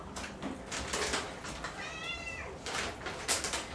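Pet cats fighting indoors let out a single short, strained meow midway through, faint and distant against a steady background hiss and scattered household knocks.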